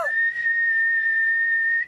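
A single sustained, steady whistle in front of a fan holds one clear pitch for nearly two seconds, close and loud, with a faint breathy wash behind it.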